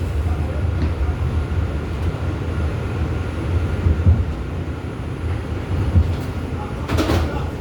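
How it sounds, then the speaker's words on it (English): New York City subway 2 train bound for Wakefield rumbling into a station, a continuous low roar with rattling and a brief hiss near the end, loud and close. "This is a Wakefield bound 2 train."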